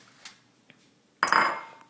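In a home soapmaking session, a few faint clicks are followed by a sudden loud clatter of dishes as a plate is pulled out, with the ringing fading over the next half second.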